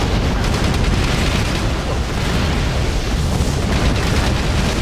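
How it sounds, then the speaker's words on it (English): A tank blows up in a combat video game, a loud sustained blast that rolls on as dense, roaring rumble for the whole stretch without easing off. "You just blew tank number 7 sky high!"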